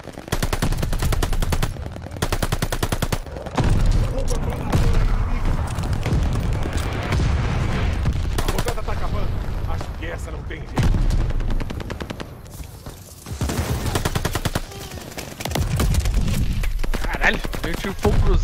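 Call of Duty: Vanguard multiplayer combat with glide bomb explosions mixed among heavy bursts of automatic gunfire, loud and near, in repeated volleys with short lulls, a voice speaking intermittently over the din.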